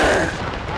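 A rifle volley fired on command by Hampton's Legion at an August promotions ceremony: a single loud, close burst of gunfire that hits at once and decays over under a second, with no talk.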